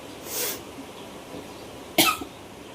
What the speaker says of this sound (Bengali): কাশি আছে